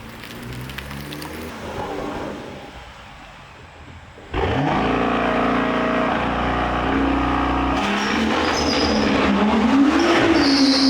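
A BMW M2 car drives past in a flyby. A faint, distant engine hum swells abruptly into a loud, steady roar, with a rising engine note near the end.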